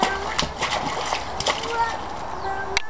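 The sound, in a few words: kids splashing water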